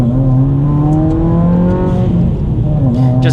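A Subaru WRX on snow tires accelerates hard in a pull, its engine droning loudly with a rising, then steadying tone close up, heard alone without talk.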